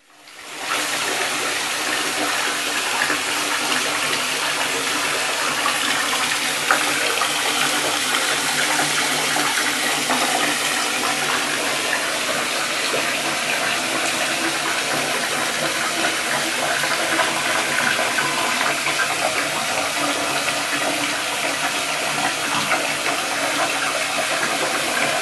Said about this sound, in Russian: как это все вот выглядит, когда ванна набирается